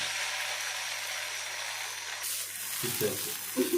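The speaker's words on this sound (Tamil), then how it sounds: "இப்போ தோசை தோசைக்கல் மேலே போட்டுடலாம்" Dosa batter sizzles steadily on a hot dosa griddle, a bright continuous frying hiss close by, with a few soft clinks and scrapes near the end.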